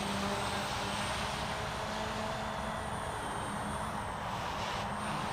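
A WLtoys V383 collective pitch RC quadcopter flies close by with a steady, loud whirring buzz of motors and rotors that shifts slightly as it changes direction.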